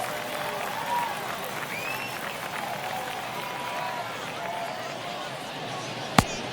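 Baseball stadium crowd in the video game MLB The Show 22 during spring training, a broad continuous cheering and murmuring wash with a single sharp knock near the end.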